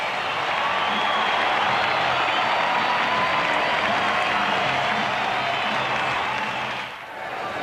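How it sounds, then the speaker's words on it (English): A baseball stadium crowd during a Braves game in the 1991 season roars and cheers in a loud, sustained wash of noise that holds steady before dipping briefly near the end. "Listen to this crowd."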